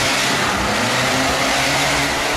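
A four-cylinder race car accelerates hard during a competition round, its engine roaring steadily and loudly with a continuous drone close by, no voices over it.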